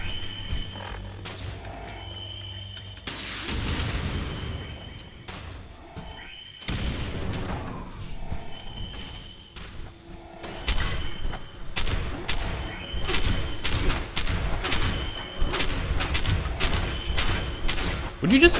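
Game battle in Fallout 76 with repeated artillery-like booms and bursts of gunfire, loud and dense through most of the stretch, with sharp impacts thickening toward the end and a voice speaking briefly.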